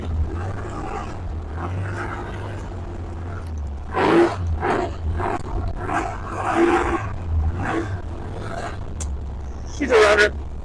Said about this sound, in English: Before I pull this thing in the shop, I think we ought to warm it up. And the best way to warm it up is probably with donuts.